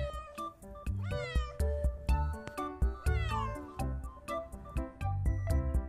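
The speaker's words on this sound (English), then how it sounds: "C for cat." A cat meows several times, with rising, drawn-out cries layered over a bouncy musical backing track, loud and close.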